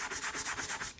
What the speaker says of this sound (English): all I'm going to do here is I'm going to sand everything.